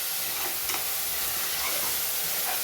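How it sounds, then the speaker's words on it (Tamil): Onions sauté in a pan for vegetable kurma with a steady, dense sizzle and hiss that runs unbroken through the short stretch. "நல்லா வதக்கி விட்டுடலாம்."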